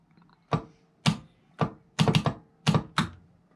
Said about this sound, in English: That's the haptics going off.